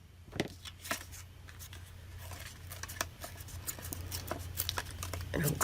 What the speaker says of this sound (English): I'm actually going to cut around that rose.